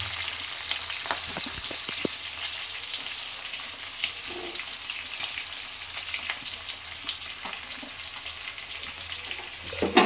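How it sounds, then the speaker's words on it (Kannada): Onions sizzle and fry steadily in a pan of tempering for lemon rice, a continuous bright crackle with occasional soft stirring clicks and a louder clatter at the very end, no voices. "ಅದು ಸ್ವಲ್ಪ ಫ್ರೈ ಆದ ತಕ್ಷಣ ನಾನು ಈರುಳ್ಳಿನ ಹಾಕ್ತಾಯಿದ್ದೀನಿ"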